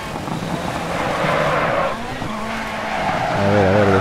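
Ford Fiesta rallycross car at Lydden Hill in DIRT Rally, sliding with continuous tire skidding and squeal over a loud engine whose pitch rises and wavers near the end.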